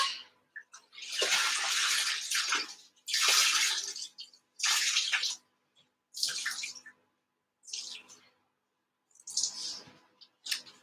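Wool fibre soaking in water with a little washing-up liquid is lifted and squeezed, giving several bursts of dripping and splashing water separated by short quiet gaps.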